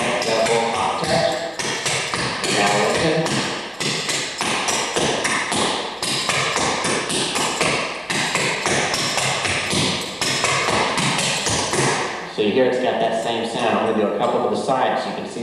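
Rapid clogging taps patter in quick rhythmic bursts, loud and close, with a brief pause before the tapping resumes near the end.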